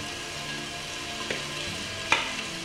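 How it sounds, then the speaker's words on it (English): Chashu pork sizzles and fries in a hot pan, a steady crackling hiss with a few sharp pops and spatters, close-up and continuous without voices. "when you put the pork, you can hear the nice sound."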